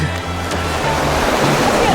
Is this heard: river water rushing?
yes